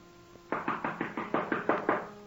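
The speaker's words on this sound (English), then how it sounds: "Answer your door, Ziegler." Eight to nine firm knocks on a door, evenly spaced in a quick steady rhythm as a radio drama sound effect, close and clear with a slight room ring and no voices.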